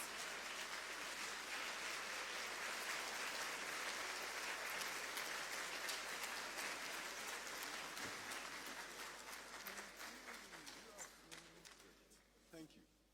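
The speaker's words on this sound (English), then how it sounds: "A round of applause" An audience at Ghana's State of Education address applauds steadily and densely to welcome the Minister for Education, the clapping thinning out and fading toward the end.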